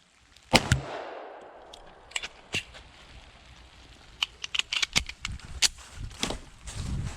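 A Tisas Duty 1911 .45 ACP pistol fires a series of sharp, irregularly spaced shots at a shooting range, with brief pauses and a quick cluster toward the end.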